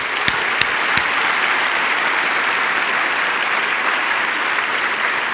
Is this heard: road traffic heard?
no